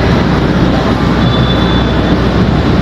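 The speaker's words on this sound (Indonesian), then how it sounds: "masuk kereta api Taksaka dari stasiun Gambir" Taksaka passenger train on its way from Gambir to Yogyakarta, rolling into Jatinegara station: a loud, steady broadband rumble of wheels and carriages close by, continuous throughout with no voices.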